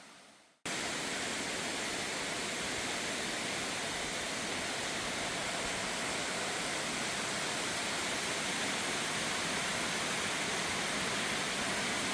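A tall waterfall in Gwacheon pours down from tens of metres in a steady, dense roar that starts abruptly and stays constant and loud throughout, with no voices.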